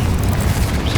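Confringo explosive spell cast in Hogwarts Legacy, a deep, continuous rumbling boom that fills the whole second, loud and close with heavy low-end roar.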